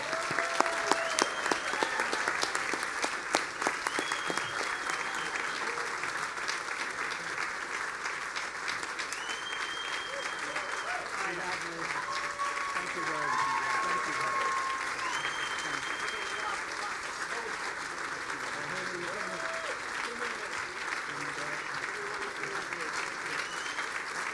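An awards-ceremony audience applauds for Robert Siegel at a press freedom event, a sustained, even wash of clapping that fills the hall throughout, with faint voices and a few cheers mixed in.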